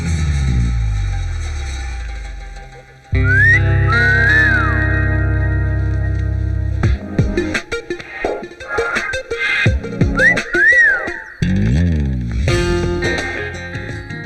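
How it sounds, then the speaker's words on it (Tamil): Person whistling, shaping the lips into an O, heard as short rising and falling whistled phrases over heavily processed music with echo and distortion effects. "உனக்கு விசில் அடிக்க தெரியும்ல? உதடால ஓ போட்டு அப்புறம் விசில் அடிக்கணும்."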